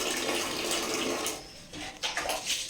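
Water is poured over a child during a bath at home, a close, loud gushing splash that breaks off briefly and then resumes in uneven splashes, with no talking.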